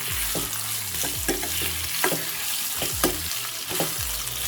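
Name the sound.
stirring raw banana fry in pan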